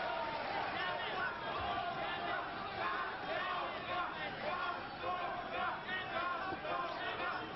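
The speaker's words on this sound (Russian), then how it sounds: "Вы слышите, как, наверное, члены нашей сборной там скандируют «Боря-Боря»" A crowd at a 1972 amateur boxing bout cheers and chants rhythmically, heard faint and distant under a commentator's voice on an old, band-limited broadcast recording.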